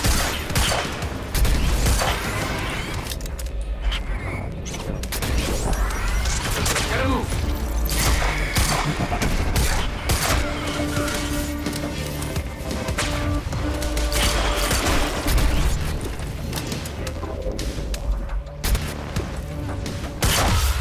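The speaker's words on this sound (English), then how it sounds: "No, it's a burst fire pistol." Burst fire pistol gunfire in a Remedy video game, repeated quick bursts of shots with thuds, crashes and mechanical clanks in a busy fight lasting throughout, with someone talking at times.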